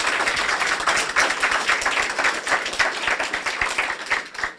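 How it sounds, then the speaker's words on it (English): An audience at a police department awards ceremony gives a round of applause for a newly graduated St. Paul officer, close, dense clapping that continues steadily for several seconds before thinning toward the end. "If we can give kind of an extra round of applause for Officer Grunhauser."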